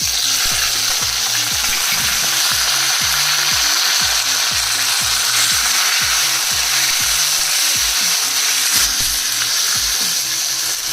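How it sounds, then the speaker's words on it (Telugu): Chopped tomato frying in oil in a kadai, giving a loud, steady, dense sizzle with no break and a close, continuous crackle throughout. "ఇదిగోండి టమాటా ఈ ఆయిల్లో బాగా మగ్గాలన్నమాట"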